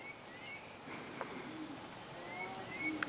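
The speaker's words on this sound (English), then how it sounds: "Right now, birds are singing." Outdoor birdsong in Maine in early March after a snowstorm, with soft cooing and thin chirps scattered over a quiet, steady background hush.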